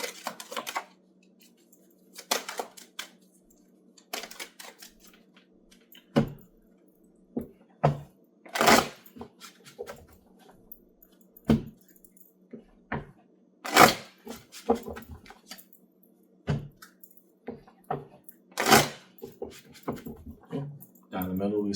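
Tarot cards are shuffled, handled and laid out on a table in a series of soft, close slaps and flicks at an irregular pace, with quiet breaks between them.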